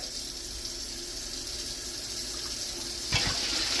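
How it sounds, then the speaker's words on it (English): A jar being rinsed out with water gives a continuous running, sloshing wash that turns into a louder splash burst in the final second, with no voices present. "Rinse out your jar."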